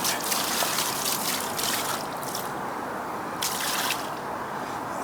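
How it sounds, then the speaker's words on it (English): Water poured over a freshly landed carp on a fishing bank at Pride of Derby: a continuous close trickling and splashing that stays fairly steady throughout, with no talking. "let's get a bit more water on it"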